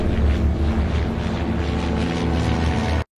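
Droning engine and propeller hum of a small airplane in flight, a loud steady low rumble with no talking that cuts off abruptly at the end.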